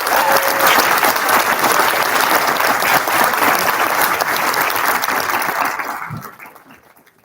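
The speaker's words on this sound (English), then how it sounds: "Let's give him a hand." Audience applause for a student at a school board meeting, loud sustained clapping from a room full of people that fades away near the end.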